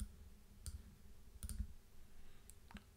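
Computer mouse clicks in software while importing images, a few sharp separate clicks spread over a quiet few seconds with no talking.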